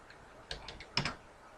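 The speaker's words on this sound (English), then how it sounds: "I could type in 50 here." A number is typed on a computer keyboard: a short, quiet burst of four or five close key taps in a silent room.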